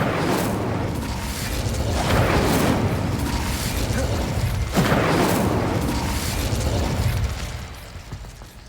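In Hogwarts Legacy, an Incendio fire spell is cast and bursts with a whooshing roar and a booming pop. A sharp crack lands near the middle, over a dense, busy game background, with no talk.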